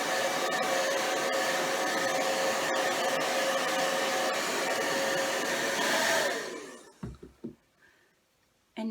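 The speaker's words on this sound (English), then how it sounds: "just going to give it a little zhuzh with the dryer" A hair dryer drying paint on a plaster heart blows with a loud, steady whir for about six seconds, then shuts off, leaving a few soft clicks and handling noises.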